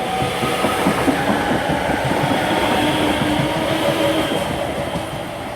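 A train from Aberdeen to Penzance rolls into Haymarket station on platform 1, a steady, close rumble of wheels and carriages with faint rhythmic clatter throughout.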